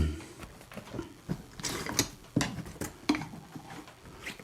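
Knipex pliers with a push-button adjustment mechanism click and ratchet as they are reset, giving a series of sharp, close mechanical snaps at an irregular pace with quiet handling noise between them.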